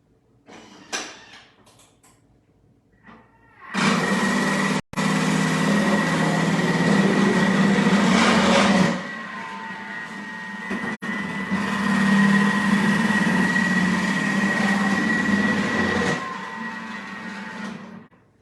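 A Thermomix Découpe Minute electric food chopper whirs loudly and steadily for several seconds, its motor tone shifting once partway through, then cuts off.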